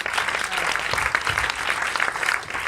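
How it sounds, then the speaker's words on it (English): An audience applauds for actress Blythe Danner, a dense, continuous wash of clapping from a large crowd that holds steady and fairly loud throughout. "One more round of applause please for Blythe Danner"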